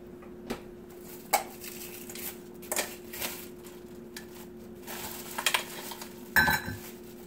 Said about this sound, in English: I'm gonna go ahead and add my crab.